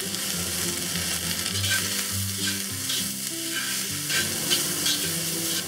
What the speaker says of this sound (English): The stems need a little longer to cook, so we'll cook it for about a minute.